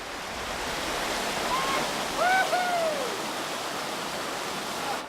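Continuous broadband rush of a powerful river flowing over natural water slides, steady and full, with a couple of brief tonal calls or whistles cutting through briefly.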